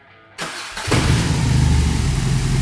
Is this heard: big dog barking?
no